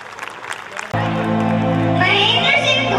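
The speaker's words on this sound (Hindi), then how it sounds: "जोरदार तालियों से उनका स्वागत कीजिए।" An audience at a school annual day celebration breaks into strong, dense applause that starts abruptly after a moment of a voice over a PA, then swells into sustained clapping with some cheering.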